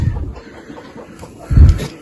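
A few low, soft clucks from hens close by, with a louder burst of clucking near the end.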